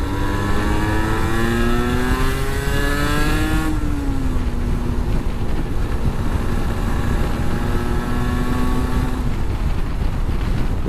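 A 125cc motorcycle engine accelerates to overtake a car. Its steady drone climbs in pitch under heavy wind rush, dips briefly, then rises again, close and continuous.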